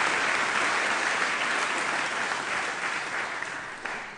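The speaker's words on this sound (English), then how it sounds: "can we have a round of applause," A graduation ceremony crowd in London claps warmly for the computing department, a full, steady burst of applause that gradually thins and fades near the close.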